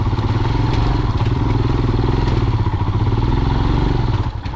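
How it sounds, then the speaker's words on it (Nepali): A Royal Enfield Himalayan BS4 motorcycle labours off-road, its engine chugging steadily and loudly close by under strain, with clattering and thumping from the bike over rough ground throughout. "आज किन कुदेको छैन मेरो बाइक यार"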